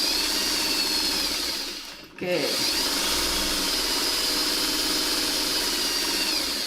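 A steady mechanical whir runs nearly throughout, briefly stopping and restarting, with a short spoken word over it.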